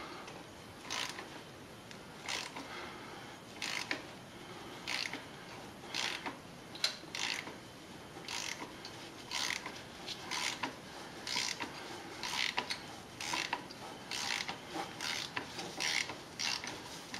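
A Toyota canister-style oil filter tool loosening the filter on a 2010-2015 Toyota 4Runner, giving repeated rhythmic ratcheting clicks and creaks in short regular bursts, close and fairly clear.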